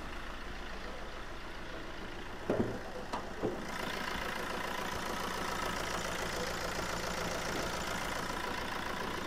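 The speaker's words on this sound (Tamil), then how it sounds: "இப்போ வண்டியோட இன்ஜின் நம்ம ஸ்டார்ட் பண்ணிட்டோம்." A 2014 Fiat Punto diesel car engine idles just after being started, a steady, even rumble heard close by and alone, with a couple of brief knocks early on before the idle settles.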